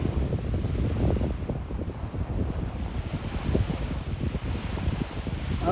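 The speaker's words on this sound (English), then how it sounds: "This is Castlegregory Beach." Wind buffets the microphone over continuous surf at Castlegregory Beach, a long white-sand beach in Ireland, with waves washing in steadily and no voices.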